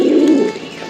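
A pigeon in a loft coos up close, loud and alone, as a green-necked male is paired with a black-necked female.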